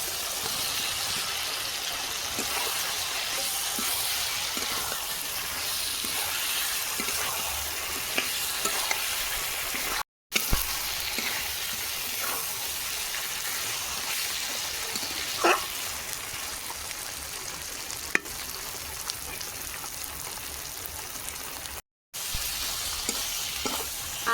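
Fried potatoes sizzle steadily in a pan of cooked spice masala for a Bengali rohu fish curry. The hiss is close and continuous, with occasional stirring scrapes and faint pops, broken by two short silent cuts.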